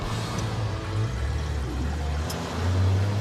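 A vintage International Harvester truck, running under its own power for the first time in over two decades, drives along a road with a steady low engine drone and road rumble throughout, fairly close and continuous.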